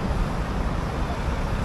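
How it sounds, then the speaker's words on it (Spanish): Dense street traffic in Santos, Brazil, a steady broadband roar of passing vehicles, close and fairly loud, with no voices. "vamos a ver si podemos cruzar la calle, que el tráfico está un poquito fuerte aquí."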